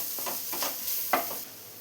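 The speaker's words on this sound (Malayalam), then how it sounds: "എല്ലാം കൂടെ ഒന്ന് മിക്സ് ചെയ്ത് കൊടുത്തിട്ടുണ്ട്." A pan of spices with turmeric being stirred and sautéed, a few soft scraping strokes over a faint sizzle, quiet and close.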